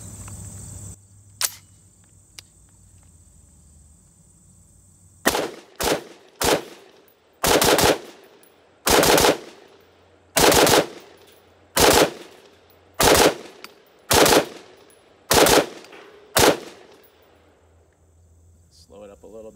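A SIG rifle fires Winchester 5.56 55-grain FMJ rounds outdoors: about a dozen loud, sharp shots at a steady, roughly one-per-second pace, preceded by a few faint clicks and a low background hum.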